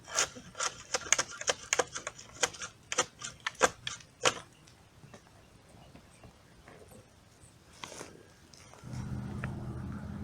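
Bark hack scraping a fresh resin streak into a pine trunk: a rapid series of sharp, close scraping and chopping strokes for about four seconds, then a lone stroke, with quiet outdoor background and a low rumble at the end.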